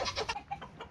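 Chickens and roosters cluck briefly in a quick run of short, close calls, moderately loud and with no talking.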